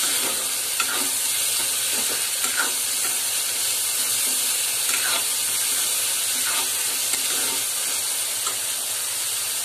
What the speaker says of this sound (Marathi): आता आपण त्यात भोपळा टाकायचा। हे सगळं चांगलं मिक्स करून घेऊया आपण।